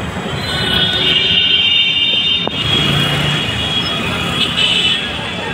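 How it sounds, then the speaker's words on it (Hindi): A Delhi metro train at Laxmi Nagar station, heard from a flyover, gives a loud continuous rail rumble with a high metallic wheel squeal running throughout, mixed with road traffic noise. "यह मेट्रो स्टेशन लक्ष्मी नगर का।"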